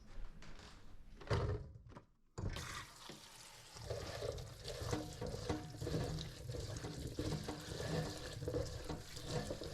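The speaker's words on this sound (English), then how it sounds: "I have these beautiful little tomatoes that I'm going to give a quick rinse" Small tomatoes are rinsed under running tap water in a kitchen, a steady broadband splash and trickle that starts abruptly after a brief knock and continues at close range, with no talking.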